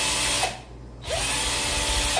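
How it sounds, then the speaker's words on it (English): A small drill bit bores holes through vinyl drum wrap for a Roland VAD 306 kit, a steady close whine running throughout and dipping briefly in the middle as the bit breaks through. "we're going to do a small drill bit, and we're going to mark our holes"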